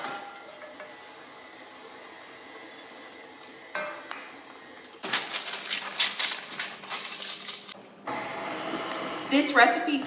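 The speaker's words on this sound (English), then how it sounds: "mash it up using the help of the mixer" An electric hand mixer mashes ripe bananas in a bowl, starting with a few short whirring bursts and then settling into longer, louder spells of buzzing motor with soft squishing and rattling.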